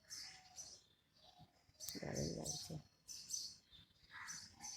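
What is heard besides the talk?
birds calling in the morning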